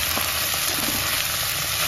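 Chopped onion, garlic paste and mixed vegetables sautéing in a pan, giving a dense, continuous close sizzle with no pauses.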